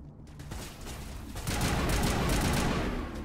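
Sustained gunfire in the video game Mass Effect Legendary Edition, a dense rattling barrage that swells louder partway through and continues to the end.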